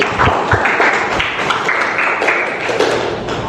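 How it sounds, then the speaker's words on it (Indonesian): Students in a classroom give a short round of applause, scattered uneven claps from a small group, close and loud, with a few louder taps and thumps among them. "Oke, boleh tepuk tangan buat Arziki."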